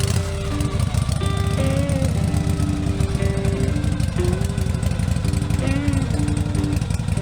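A Harley-Davidson motorcycle engine runs steadily and loud throughout, a continuous rumbling drone with some rising and falling tonal whine over it.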